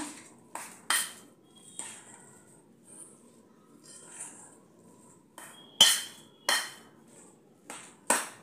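Ingredients for a samosa filling being mixed in a bowl: a series of sharp metallic clinks and taps of a spoon against the bowl, spaced irregularly with quiet gaps between, close and fairly faint.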